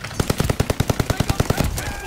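Rapid automatic gunfire from a wall gun in a first-person shooter game, played with mouse and keyboard: a steady burst of about eighteen sharp shots in an even rhythm, loud and close.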